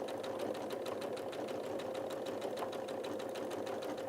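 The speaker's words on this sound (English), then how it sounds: "Lower your needle into what you're stitching. And simply start sewing." A sewing machine stitches with twin needles through a quilt, giving a steady, even mechanical hum with a fast regular needle clatter throughout, fairly quiet and close.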